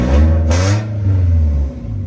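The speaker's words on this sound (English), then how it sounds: "Now we can give it a little rev, come down here." An Acura Integra engine, just repaired after a leak, revs once close by, rising from a low idle to a brief whine and settling back into a steady rumble, with no talking.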